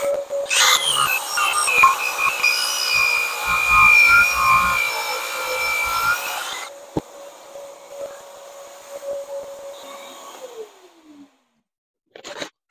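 Grinding a back bevel on a blade in a small shop, a harsh abrasive rasping grind for several seconds, then a lingering high whine as the grinder spins down, with a short clunk at the end.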